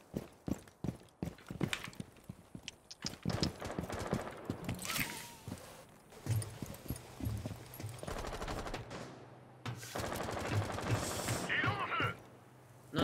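Rapid gunfire bursts from a video game firefight, sharp close shots shattering windows in clusters, with short pauses, scattered footsteps and faint voices between volleys.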